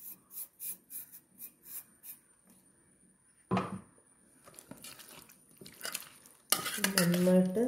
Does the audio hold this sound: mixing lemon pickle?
yes